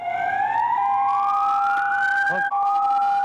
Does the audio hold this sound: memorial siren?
yes